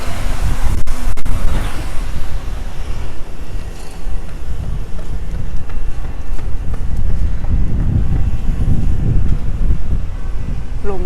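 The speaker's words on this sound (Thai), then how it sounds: "ลมลม" Wind blowing across an outdoor microphone on an early-morning London street, a steady low rumble and buffeting that holds for the whole stretch, with faint traffic-like noise mixed underneath.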